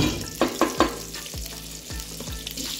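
Refined oil and butter sizzle and crackle in a hot pan, with a few sharp pops and spoon or utensil scrapes against the metal, close up, while cooking kadai paneer.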